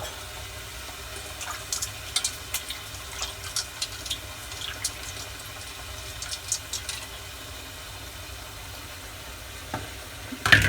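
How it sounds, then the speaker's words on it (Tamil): Water is poured into a pan of pepper rasam, giving a soft, steady liquid wash with regular light ticks and bubbling pops, then a louder clatter at the very end. "தேவையான அளவுக்கு தண்ணி ஊற்றிக்கிறோம்."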